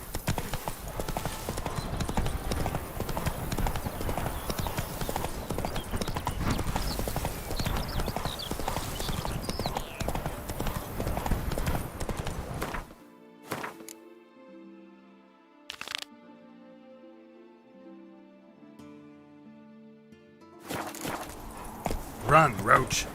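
Roach the horse galloping in The Witcher 3 video game: rapid, rhythmic hoof clip-clops at close range. A quiet musical stretch with only a few isolated hits interrupts them before the hoofbeats return.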